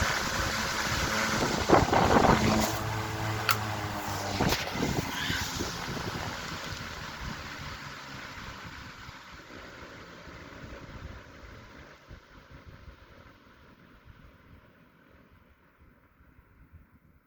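An antique restored Century S3-16 16-inch electric fan, with a worn bearing, winds down from full speed, its whirring hum and airy rush fading steadily over many seconds to near silence, with a few brief knocks early on.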